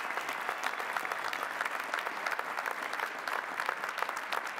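A large audience at Lehigh University's spring commencement applauds Bachelor of Arts and Science graduates, even, continuous clapping heard at a distance throughout.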